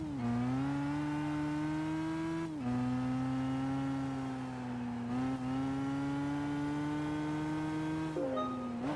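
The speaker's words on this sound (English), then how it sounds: "Or we heard the car right here." A racing car's engine hums evenly in Gran Turismo 5, its pitch creeping upward before dropping sharply at each of three upshifts, heard alone at moderate volume.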